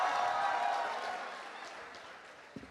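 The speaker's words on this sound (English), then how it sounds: "Can we have a round of applause for Professor Sriranga Joshi?" Applause from an audience at the Aagatya'22 alumni event fills the room for Professor Sriranga Joshi, a dense wash of clapping that is loud at first and then slowly thins and fades.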